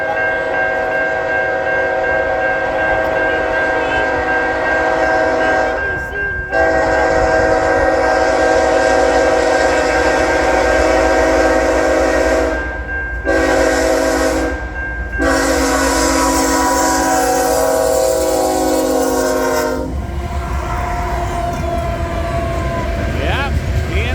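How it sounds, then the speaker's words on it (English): A Norfolk Southern night train, with a BNSF locomotive leading, rolls steadily past close by, its horn blaring in several long blasts over continuous wheel and rail rumble, with voices faintly underneath. "It's a night train."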